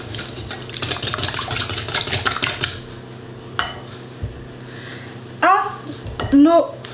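A whole egg and an extra yolk are beaten in a mixing bowl, a quick burst of rhythmic whisk clatter against the bowl for a few seconds, then quieter scraping and clinks, with a voice speaking briefly near the end.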